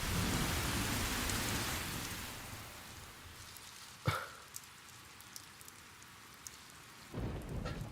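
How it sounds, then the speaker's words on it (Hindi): Heavy rain pouring down in a steady roar, with a sharp crack of thunder midway and a few scattered drips, then the downpour swells again near the end. "बाहर से ज्यादा बरसात तो यहाँ पर है।"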